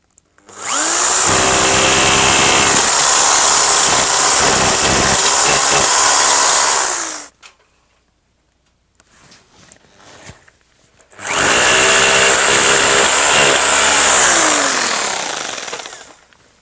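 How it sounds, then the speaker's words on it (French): Hammer drill boring holes into a concrete block wall, two loud sustained bursts of harsh hammering drilling of about six and five seconds, separated by a short quiet pause. "Et on va percer avec un perfo parce que je suis sur un mur en parpaing."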